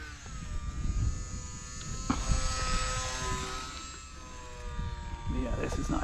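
An E-Flite UMX Beast 3D, a light, fragile RC plane, flying with a thin steady electric motor whine that rises and falls in pitch, faint and distant over outdoor noise and handling sounds.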